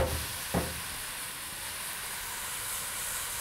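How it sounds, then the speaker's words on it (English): Vegetables sauteing in a hot pan give a steady, soft sizzle and hiss with one brief clatter near the start, heard alone and fairly quiet. "let them start sauteing away"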